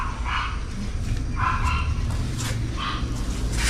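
A dog gives several short barks and yips at moderate distance, spaced irregularly over a steady low background hum.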